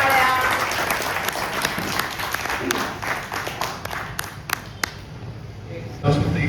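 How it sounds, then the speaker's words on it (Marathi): Audience applause at a cultural group's spring gathering, loud and dense at first then thinning into scattered individual claps, with some talk mixed in. "जोरदार टाळ्या"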